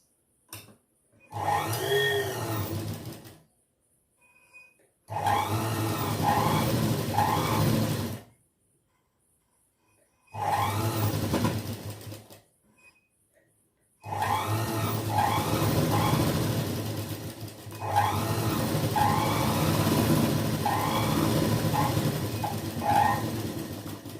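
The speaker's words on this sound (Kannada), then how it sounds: "ಇದಕ್ಕೆ ಈಗ 1/4 ಇಂಚಲ್ಲಿ ಸ್ಟಿಚ್ ಮಾಡ್ಕೊಂಡು ಹೋಗೋಣ." An electric sewing machine stitches a blouse seam about a quarter inch in, running close and steady in four whirring bursts separated by short silent pauses.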